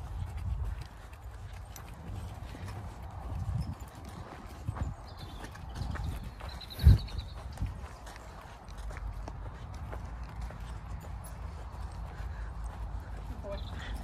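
A horse's hooves clip-clop steadily while it is being ridden, in an even walking rhythm over a low outdoor rumble, with one sharper knock partway through.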